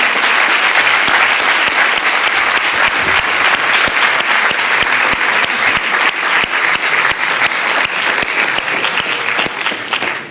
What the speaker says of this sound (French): Je vous demande vraiment d'applaudir nos intervenantes et je les remercie infiniment.